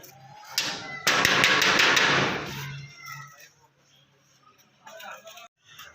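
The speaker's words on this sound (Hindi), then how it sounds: "गेट को मैंने ज़ोर से खटखटाया है" A gate is knocked loudly, a quick cluster of sharp metallic raps that ring briefly, followed later by a few quieter taps; a voice can be heard faintly in the background.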